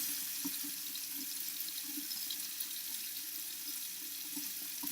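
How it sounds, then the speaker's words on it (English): Water runs steadily from a bathroom faucet into a cupped hand before face washing, a soft continuous hiss and splash with faint drips, close by, with no speech. "I'm gonna put the water on and kind of get it in my hand"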